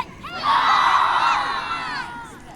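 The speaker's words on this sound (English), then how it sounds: "give me your biggest, scariest battle cry" A group of children let out a loud, sustained battle cry together, rising sharply and holding for about two seconds before fading.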